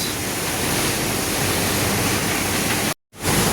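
The Arun river rushes under a Koshi Highway bridge, loud, steady water roaring continuously, a broad churning wash with a brief cut near the end before it resumes.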